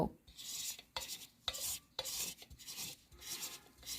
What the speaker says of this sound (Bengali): আর এই টমেটোটাকে একটা গ্রেটারের সাহায্যে গ্রেট করে নেব